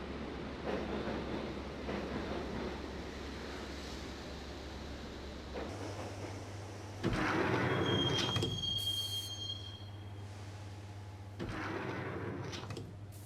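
Subway train ride in the Max Payne video game, with steady rumbling wheels on track, a heavier clattering surge midway and a thin metallic wheel squeal, continuous and close with no voices.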